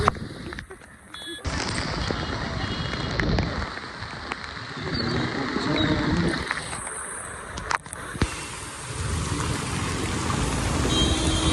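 Steady heavy rain pours in Karjat during flooding, a dense wash of hiss and splashing, while people talk intermittently over it nearby.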